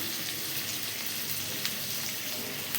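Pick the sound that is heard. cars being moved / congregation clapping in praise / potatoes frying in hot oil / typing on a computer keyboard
potatoes frying in hot oil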